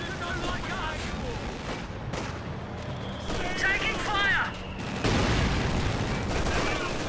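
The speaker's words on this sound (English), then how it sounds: "Throws the assault grenades into the building" Assault grenades exploding inside a building in the Company of Heroes 2 video game, heavy thuds and gunfire bursts in a busy battle mix while a commentator talks over it.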